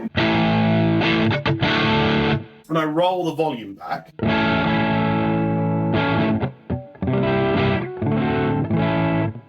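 Overdriven electric guitar chords from a Harley Benton DC 60 Junior ring out in sustained bursts, with a brief pause where someone speaks before the playing resumes.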